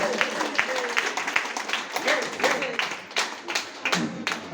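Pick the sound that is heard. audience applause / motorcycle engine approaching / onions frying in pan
audience applause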